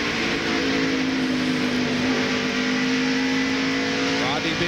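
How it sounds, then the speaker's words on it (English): NASCAR stock cars racing at Bristol in the 1996 Food City 250, a loud steady engine roar that holds throughout under a commentator's voice. "Brad Teague's car number 77."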